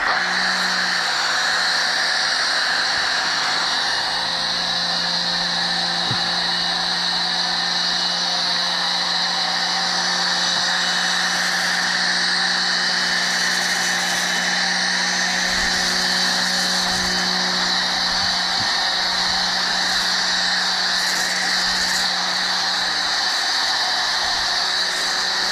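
Pressure washer spraying foam onto a car in a garage: a continuous loud hissing spray over a steady motor drone, unbroken and close, with faint clicks and handling noises underneath.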